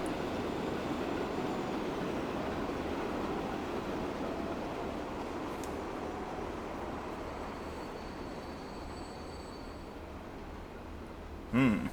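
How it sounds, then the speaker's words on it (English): HST Intercity 125 high-speed train pulling in within the game Transport Fever 2, a soft continuous rolling rush with faint high tones, quiet and distant, with a brief bump at the end. "Another HST coming in."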